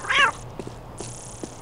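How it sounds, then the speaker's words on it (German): A cat meows on a rooftop in the video game Postal 2, one clear high cry near the start, followed by faint scattered game sounds and low background hum. "Warum ist da eine Katze auf dem Dach?"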